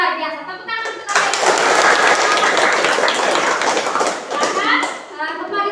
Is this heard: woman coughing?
no